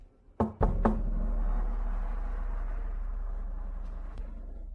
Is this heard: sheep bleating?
no